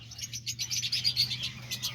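Pet birds, including diamond doves, lovebirds and parakeets, chirp in quick steady repeated calls close by over a low background hum, with no talking.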